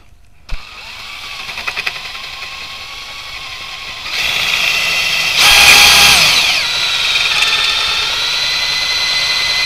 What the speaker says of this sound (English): and you just drill through.